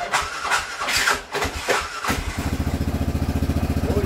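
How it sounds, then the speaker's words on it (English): A pump starts up after some clattering and rustling handling noises, then runs with a steady, rapid pulsing chug close by that continues to the end. "All right, pump running."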